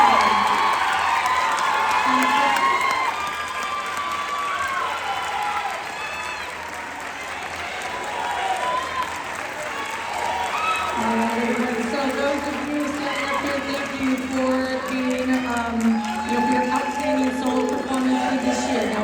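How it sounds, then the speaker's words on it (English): An audience at a school band awards night bursts into applause and some cheering for the winners, loud at first and then fading as a single voice takes over and talks. "And now, go ahead and give your round of applause."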